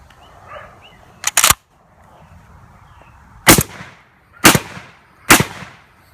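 A Mossberg 930 JM Pro semi-automatic shotgun fires four loud, sharp outdoor shots during a function test, an early close pair followed by three evenly spaced blasts, with quiet gaps between them.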